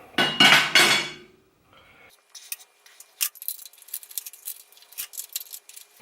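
Metallic clinks and taps of countersunk bolts being handled and fitted into a skid plate, a brief loud burst at first, then a scattered run of light, near ticks and clatters.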